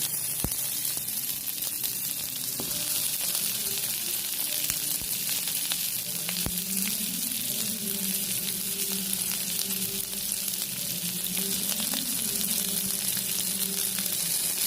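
Steady crackling sizzle of onions frying in hot oil, close by, with occasional stirring scrapes and no talking.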